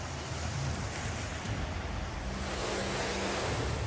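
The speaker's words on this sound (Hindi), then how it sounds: "मनाली में ब्यास रौद्र रूप दिखा रही है," The flooding Beas river rages through Manali, a continuous loud roar of churning water and crashing waves, steady and close with no pauses.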